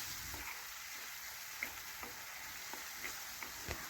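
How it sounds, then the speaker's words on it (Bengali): Mango pieces frying with fish and light spices in a pan, a faint steady sizzle with occasional soft stirring taps. "আম একটু ভেজে নিচ্ছি।"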